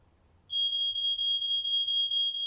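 A smoke-detector-style fire alarm in a film scene starts abruptly and sounds a loud, continuous, piercing electronic tone, pulsing slightly, with no talk over it.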